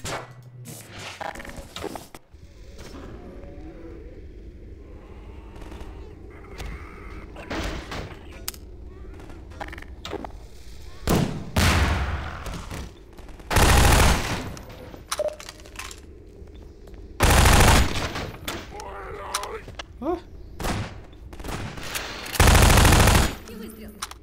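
Game gunfire from Half-Life 2: Episode One, with several loud broadband shots and short bursts landing at intervals over a steady low background hum of the game.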